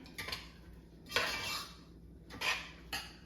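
A spoon clinks and scrapes inside a pot while portabello mushroom and baby spinach soup is stirred, in a few separate bursts of light metallic knocking and scraping, fairly close and quiet.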